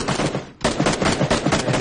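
Rapid automatic gunfire from a Tommy gun in the video game Dying Light, loud and dense bursts running nearly the whole time with a brief gap partway through.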